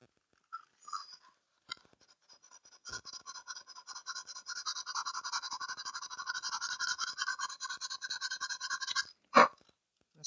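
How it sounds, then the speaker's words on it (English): Sandpaper rubbing a cardboard tube flute, quick rhythmic back-and-forth scratching strokes up close, building into a steady run of short rasps after a few scattered scrapes, ending with a sharp knock. "I think I'll use some sandpaper just to get any excess."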